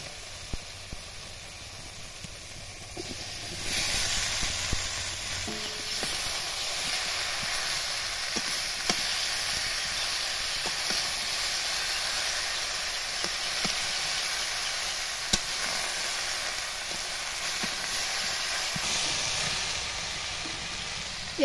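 Jackfruit is dropped into spice paste frying in hot oil, producing a steady broad sizzle and hiss that swells as it goes in and carries on evenly, close and fairly loud, with no talking.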